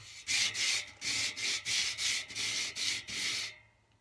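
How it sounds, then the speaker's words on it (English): Rhythmic hand sanding, about nine quick back-and-forth strokes of sandpaper scraping the edges of a metal bicycle rim up close, each a bright gritty swish, ending abruptly. "I'm going to take this sandpaper, and I'm going to go ahead and just sand down all the edges here"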